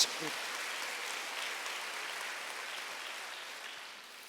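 A church congregation at a Wednesday worship service applauds together, a broad even wash of clapping that starts abruptly and slowly fades, moderately distant with no voices over it.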